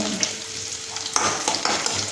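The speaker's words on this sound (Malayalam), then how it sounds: "ഇതെല്ലാം ഒന്ന് വറുത്ത് സെറ്റാക്കാം" Chilies and garlic sizzle in a hot pan for spinach thoran, a close, steady frying crackle with a few scraping stirs of a spoon and no talk.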